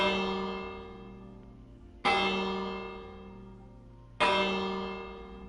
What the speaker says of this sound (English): That's a big bell.